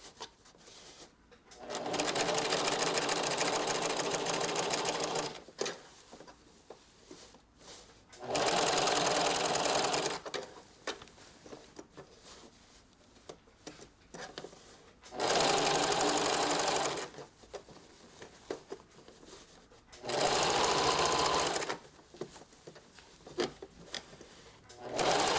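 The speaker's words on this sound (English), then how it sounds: "we're going to sew close to the edge all the way across" A sewing machine stitches close to the edge of a seam on fabric, running in four steady, whirring stretches of a few seconds each, with quiet handling noises between runs.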